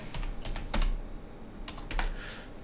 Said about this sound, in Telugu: ఇక్కడ latlong.net అయితే మనం టైప్ అయితే చేద్దాం